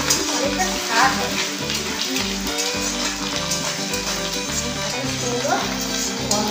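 Grated coconut fries in hot oil in a pan for a banana-flower dish, giving a dense, continuous sizzle close by with occasional stirring scrapes and a faint voice in the background.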